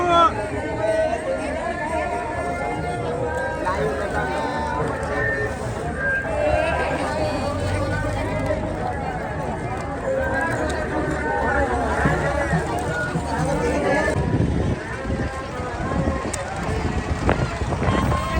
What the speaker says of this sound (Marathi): गर्दी वाढली आहे